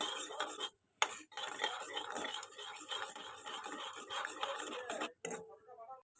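A spoon stirs sugar caramel in a pan over a low flame for sweet yogurt, giving continuous close scraping and swishing with a few short pauses and a light clink.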